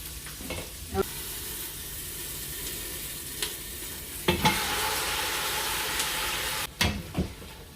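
Meat goes into hot oil in a home kitchen for Filipino menudo, a loud continuous sizzle with spatula scrapes and stirring clatters, rising sharply as the meat hits the pan.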